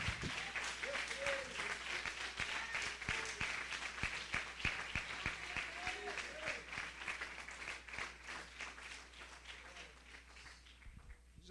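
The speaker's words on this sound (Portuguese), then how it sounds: "E isso você quer aplaudir, aplaude e glorifica o nome do Senhor." A church congregation applauds continuously during a worship service, the clapping steady and full before gradually thinning and fading toward the end.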